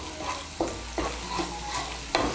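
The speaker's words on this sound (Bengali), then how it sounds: "হলুদ গুঁড়ো আর লঙ্কার গুঁড়োটাকে ভালো করে মিশিয়ে নেব তেলের সঙ্গে।" Turmeric and Kashmiri chili powder stirred into hot oil for a fish curry, the spoon scraping in several strokes while a steady sizzle runs underneath, close and moderately loud, with no voices.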